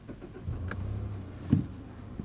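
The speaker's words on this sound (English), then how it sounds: "it's a new car, of course it starts right up." A new black-and-silver Mazda car engine starts right up, a brief starter crank followed by a quick catch and a low idle, close and fairly quiet, with no voices.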